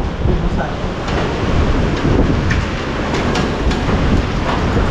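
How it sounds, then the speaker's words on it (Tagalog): Strong sea waves roll in during Super Typhoon Uwan with a loud, continuous roar and wash. Heavy wind buffets the microphone throughout. "Grabe lakas ng alon."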